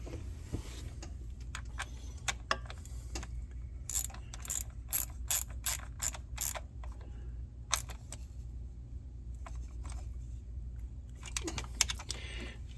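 A ratchet wrench tightens bolts on a Ford F150 engine with aluminum threads. It clicks in quick bursts of sharp ticks, one clear rhythmic run in the middle and more at the end, over a low steady hum with no talking.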